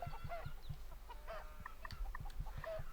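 Chickens of a meat breed clucking on a farm in a video game, a steady run of short repeated clucks at moderate loudness with several birds calling over one another.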